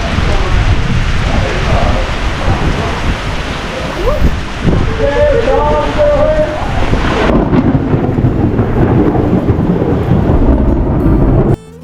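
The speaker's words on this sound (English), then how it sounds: "We woke up on our final day to a brewing storm that turned pretty nasty" Heavy rain hammers down through a strong storm at Dry Tortugas National Park, Florida, under a loud continuous roar of rain and wind with rumbling thunder before the noise eases off near the end.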